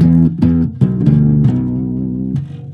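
Electric guitar through a Bugera Veyron tube amp with gain turned all the way up: a few loud, saturated chord stabs in quick succession, then a sustained distorted chord ringing out and decaying, close and alone.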